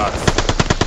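Rapid MP-40 submachine gun fire in Call of Duty: Vanguard, a close, loud burst of about seven evenly spaced shots in quick rhythm.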